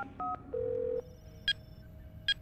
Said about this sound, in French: Ça y est, le chef est en train d'appeler.